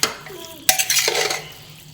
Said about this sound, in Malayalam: ഇനി അരപ്പൊക്കെ നല്ല പോലെ ഒന്ന് ഇളക്കി.